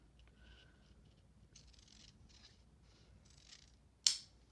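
A single sharp snip of scissors cutting through the frayed end of a ribbon near the end, following faint handling rustles and light scraping.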